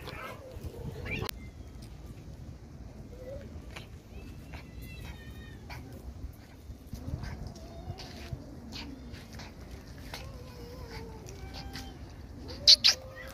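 Several cats at a feeding spot meow repeatedly in short, scattered calls over a busy outdoor background, with a louder, sharper cry near the end.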